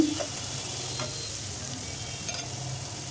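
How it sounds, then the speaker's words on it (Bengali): Onions sizzle steadily in hot oil in a pan as a chicken curry base, with a few soft scrapes of stirring, close and fairly loud, and no talking. "এই তো পেঁয়াজগুলো আমার প্রায় ভাজা হয়ে গেছে।"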